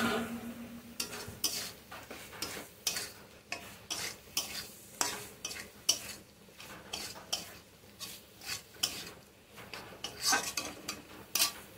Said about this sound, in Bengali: আলুটা একটু ভালো করে কষে নিয়ে জল দিয়ে দেবো